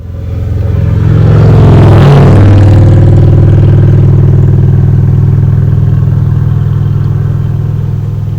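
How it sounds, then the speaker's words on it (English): A car with a modified exhaust roars past close by, a loud droning engine rumble that swells and pitches slightly as it passes, then lingers as a steady low growl. "people are driving through here with stereos full blast and modified exhaust systems"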